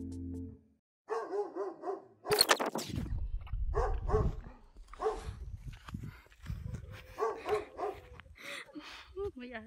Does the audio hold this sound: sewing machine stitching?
no